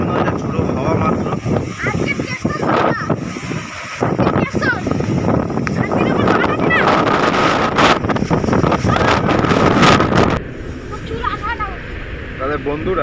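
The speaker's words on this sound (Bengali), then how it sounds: "এই মুহূর্তে হালকা হালকা বৃষ্টির সঙ্গে যে ঝোড়ো হাওয়া দিচ্ছে, ঝড় নয়, যে ঝোড়ো হাওয়া মাত্র।" Gusty wind with light rain during Cyclone Mocha buffets the microphone in loud, continuous rushes, easing slightly near the end while a person speaks underneath.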